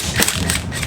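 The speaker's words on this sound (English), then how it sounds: "I'm going to do this with an impact." An impact wrench with a 12 mm socket on a cut-off Allen-head screw of a Harley-Davidson Touring bike gives a short, loud, rattling hammer burst with a few pulsing peaks.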